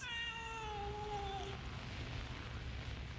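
A cat in the video game Crime Scene Cleaner, inside a haunted house, gives one long, drawn-out meow that fades after about a second and a half over a steady low rumble.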